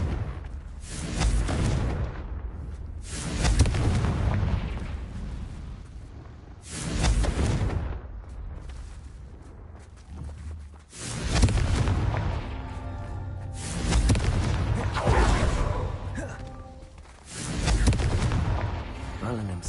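Confringo spell blasts in Hogwarts Legacy go off as a series of sharp, loud explosive booms, about seven or eight spaced a couple of seconds apart, each followed by a rumbling decay, with some voice in between.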